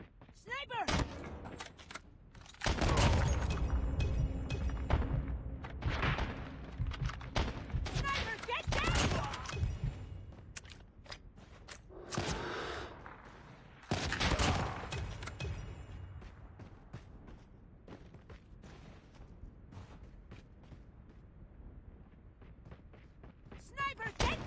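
Sniper gunfire rings out in loud, sharp bursts and volleys, with booming reports scattered across the scene while voices shout urgently over and between the shots.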